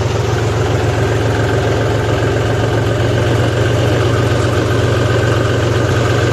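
A tractor engine idles with a steady, low rumble, continuous, loud and close, with a constant vibrating drone and no speech.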